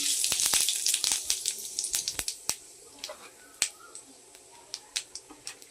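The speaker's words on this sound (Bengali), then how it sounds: "এই যে ফোড়নে দিচ্ছি, এই যে গোটা জিরে, সাদা জিরে" Whole white cumin seeds tempering in hot oil crackle and pop in rapid, sharp bursts over a steady frying hiss, the pops thinning out and spacing apart as the sizzle continues close by.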